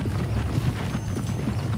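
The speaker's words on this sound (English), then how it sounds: "Okay, let's see if you can still ride a horse." Horse hooves clip-clopping steadily in the open-world Western video game Red Dead Redemption, a continuous near trotting rhythm with faint background ambience and no talk.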